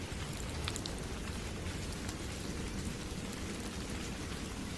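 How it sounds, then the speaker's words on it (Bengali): Heavy pouring rain from a Bengali cartoon, a dense, steady roar of downpour with spattering drops and low rumbling beneath, constant and close with no voices. "ঝমঝম করে মুষলধারে বৃষ্টি।"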